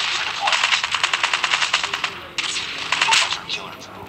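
Rapid bursts of automatic gunfire from the video game Crawl of Duty, in a steady fast rhythm that breaks off briefly and resumes, with voices talking over it.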